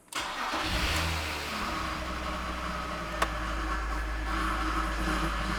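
A BMW E46 330i engine with a 6-speed cranks and catches, then settles into a steady, close idle with a low rumble and a brief click partway through.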